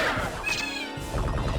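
Short synthesized cat meow from the Castlevania Symphony of the Night video game, a bright rising cry followed by a brief lower caterwaul and a soft thud.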